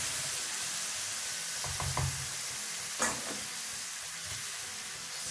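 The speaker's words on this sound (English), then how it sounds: "Now I'm gonna add the sugar syrup in there." Sugar syrup pours into a pan of roasted vermicelli for sweet Eid sevai, a soft, steady sizzle and hiss with a few light stirring clicks and one brief louder splash partway through, no voices.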